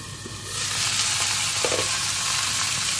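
A fish fries in hot cooking oil for a soup, a dense, loud, continuous sizzle that swells up after a quieter start and holds steady with no talk.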